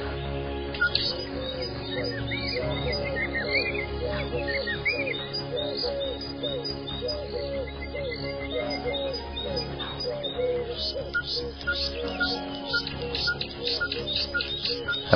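Dense birdsong fills the air in Cameroon, with repeated soft coos and chirps overlapping steadily throughout, a busy outdoor chorus of turtle doves and other birds.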